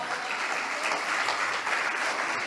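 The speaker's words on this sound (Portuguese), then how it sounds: "vamos aplaudir a Jesus pela vida das crianças" Church congregation applauding during a service: a continuous, dense round of clapping from many hands, steady and fairly loud throughout.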